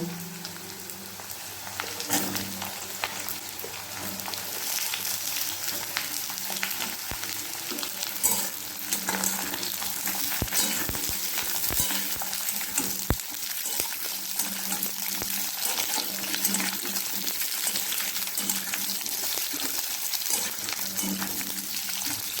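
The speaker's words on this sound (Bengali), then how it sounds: "একে একে সব সবজিগুলো দিয়ে খুব ভালো করে আমি কষাতে থাকবো।" Carrots, pointed gourd and other vegetables stir-fried in a pan make a steady close sizzle, with intermittent spatula scrapes and knocks against the pan throughout.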